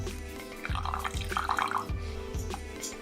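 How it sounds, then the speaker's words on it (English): Water is poured into a beaker holding a base for an acids-and-bases experiment, a soft trickling splash with brief drips over a low background hum, alone and fairly quiet. "we're going to add water to it"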